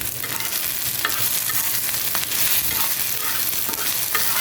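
Beef kebab mixture is stirred and scraped around a hot pan for Arabian-style kebab, a loud, close, continuous sizzle broken by repeated scraping strokes, with no talking.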